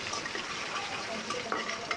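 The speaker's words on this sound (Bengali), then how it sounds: "শুধু রসুন কুচি দিয়ে খাট্টাটা বাগার দিব" Chopped garlic sizzles in oil for a tempering, a soft continuous frying hiss with a few faint crackles, heard close and fairly quiet.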